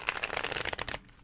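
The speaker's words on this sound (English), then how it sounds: "One more shuffle." Tarot cards riffle quickly in a short, close shuffle, a dense burst of papery flutter that stops abruptly after about a second.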